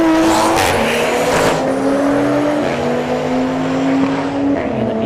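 A turbocharged Chevrolet Camaro on a drag strip at a street-heat event roars loudly and steadily through its run, its engine note climbing over crowd and track noise, with tire squeal at the launch.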